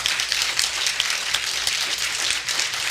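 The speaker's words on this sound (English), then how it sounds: "let's give the candidates a round of applause" Audience at a business association candidate forum in West Olympia applauds the candidates, a dense steady round of clapping from many hands, fairly loud and without speech over it.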